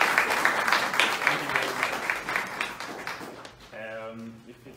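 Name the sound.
audience applause at town hall meeting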